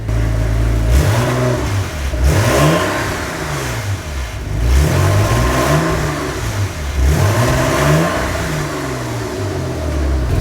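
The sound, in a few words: Porsche 986 Boxster exhaust note while engine revs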